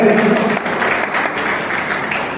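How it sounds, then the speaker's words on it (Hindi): An audience claps loudly at a National Press Day seminar and honours ceremony in Fatehpur, producing dense, sustained applause, with a voice briefly audible at the very start as the clapping builds. "मैं चाहता हूं जोरदार तालियों से स्वागत करें।"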